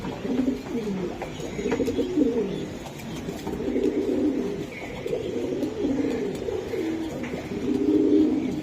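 Several large high-flyer pigeons coo continuously in deep, bubbling murmurs, close by, the soft calls overlapping without pause.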